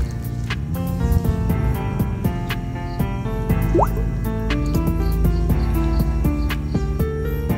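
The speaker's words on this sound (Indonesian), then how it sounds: "ini molasenya lur, dilarutkan ke dalam ini" About one liter of molasses poured and dissolved into liquid to make a fermented organic fertilizer; thick dripping and trickling sounds run throughout beneath loud melodic background music.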